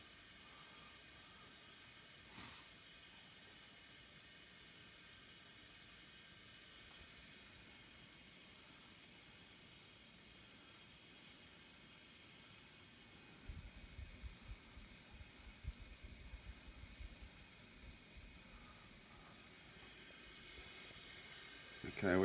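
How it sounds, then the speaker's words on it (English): Wort for a Lemon Drop SMASH pale ale at a vigorous rolling boil in a brew kettle: a steady, continuous hiss and low rumble that holds throughout, with slightly stronger bubbling surges toward the end. "It's a fairly vigorous boil."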